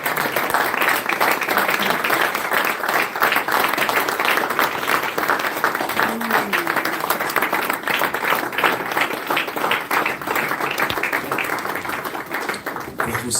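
A church congregation claps and cheers for Jesus at a worship service, with sustained, dense applause and crowd voices from start to finish that fade slightly toward the end.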